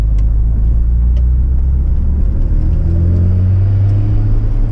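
A Mazda RX7 with stock twin turbos drives along, its engine a loud, steady low rumble heard from inside the cabin, with the pitch rising gradually as it accelerates.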